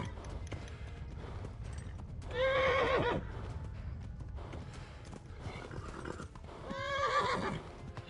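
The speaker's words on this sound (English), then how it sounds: "Run, you stupid horse." A horse in the video game Kingdom Come: Deliverance neighs twice, loud whinnies a few seconds apart, over a steady background of hoofbeats and ambient game noise.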